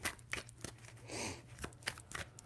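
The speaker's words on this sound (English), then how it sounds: "Three shuffles." Tarot cards being shuffled three times, giving soft papery riffles and flicks that come in short bursts, close by and quiet, with a longer rustling swish in the middle.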